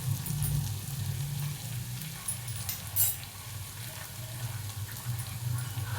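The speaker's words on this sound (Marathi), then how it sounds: "तर आले लसणाची पेस्ट टाकते" Onion sizzling steadily in a hot pan as ginger-garlic paste goes in for egg bhurji, a close, constant frying hiss with light stirring scrapes, no talking.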